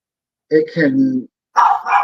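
A dog indoors gives a few loud, close barks in two short bursts separated by silence, heard on its own without talk over it.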